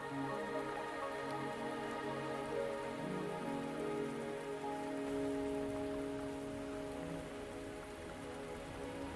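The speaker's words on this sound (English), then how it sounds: "Are you trapped here by the rain?" Rain falls steadily on surfaces in the video game Wuthering Waves, a constant patter under a layer of sustained musical tones, with no voices.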